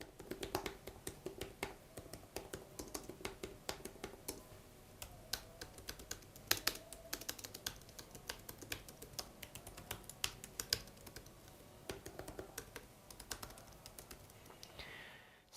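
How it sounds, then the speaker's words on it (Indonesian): Rapid, continuous typing on a Logitech Keys-To-Go 2 slim keyboard, soft but distinct key taps in an irregular fast rhythm, close to the microphone, with no voices. "kita dengarkan suara dari Logitech Keys to Go To dulu ya"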